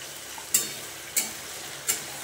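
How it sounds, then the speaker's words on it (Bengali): Tomato sautés in a hot pan, giving a steady low sizzle broken by three sharp scraping stirs spaced evenly about half a second apart. "তো এইবারে এই যে টমেটমটা দিয়ে ভালো করে কষে নেব।"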